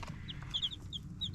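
Young chickens, a mix of hens and a few roosters, cluck and cheep in a steady scatter of short, high calls, fairly faint and close, with no one talking.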